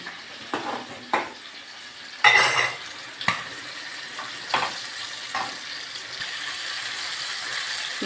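Chicken leg pieces frying in a pan while being turned, a constant sizzle punctuated by several sharp clinks and scrapes of a utensil against the pan.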